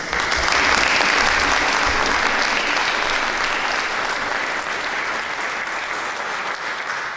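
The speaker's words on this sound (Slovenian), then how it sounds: "pa še en velik aplavz" Audience applause at the opening of a porcelain painting exhibition, dense sustained clapping from a crowd, loud and even, slowly tapering off.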